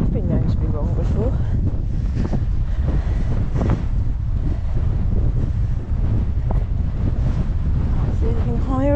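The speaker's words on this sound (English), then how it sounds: "Oh, it's definitely a cold wind." Cold wind roars across an open fell top in the Lake District, constant and loud against the microphone, with a person speaking briefly over the gusts.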